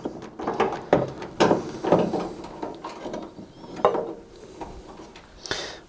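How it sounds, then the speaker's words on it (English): Screwdriver loosening a screw on the side panel of a Zanussi tumble dryer, a series of close, irregular clicks and scraping turns with brief pauses between them. "careful with the screw on the inside of the machine, that when you loosen it, you don't lose either the screw or the screwdriver inside the machine"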